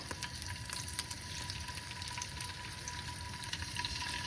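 Olive oil heats in a pan ready for frying prawns, giving a soft, even crackling hiss with scattered faint pops, fairly quiet and steady throughout with no talking.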